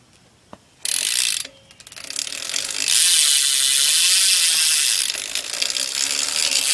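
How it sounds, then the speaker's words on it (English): Bicycle rear hub freewheel ratchet on a cassette hub, a fast loud clicking buzz in several bursts as the wheel spins, with a longer sustained run of clicking that fades slightly near the end. "And I'll do a hub sound now."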